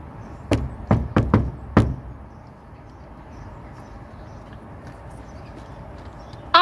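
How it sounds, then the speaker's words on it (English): Five hard knocks strike a locked church door at St Peter, Umberslade, Warwickshire, loud and close in a quick uneven series, followed by several seconds of quiet room tone. "If I knock, do you think you could knock back"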